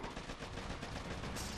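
Rapid, continuous gunfire from the mobile strategy game Boom Beach, a dense rattling burst that fills the whole short moment at steady loudness with no voice over it.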